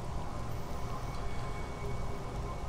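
Rain falls steadily in the video game S.T.A.L.K.E.R.: Shadow of Chernobyl, a soft, continuous patter of drops on surfaces, moderately quiet and unbroken, with no talking.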